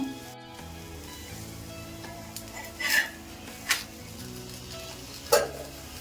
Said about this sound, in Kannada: ಇವಾಗ ಇನ್ನೊಂದ್ ಕಡೆ ತಿರ್ಸ್ಕೊಂಡು ಬೇಯಿಸ್ಕೊಳ್ಳೋಣ